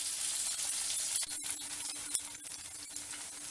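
Asafoetida sautés in a pan for a balloon vine greens thokku, giving a steady soft sizzle with a few faint clicks and stirring knocks.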